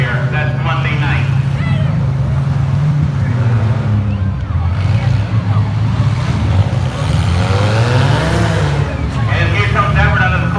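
Cars in a demolition derby at the Skowhegan State Fair, including a big orange 01 General Lee car, rumble and rev steadily with engine drone throughout, under a commentator's continuous talk.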